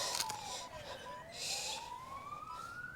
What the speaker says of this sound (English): there's so many sirens going on at the moment